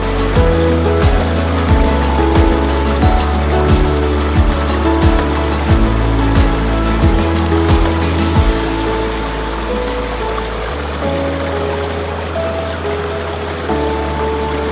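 A river flows steadily with a broad, continuous rushing wash, joined by a low rumbling engine-like drone with repeated pulses during the first half.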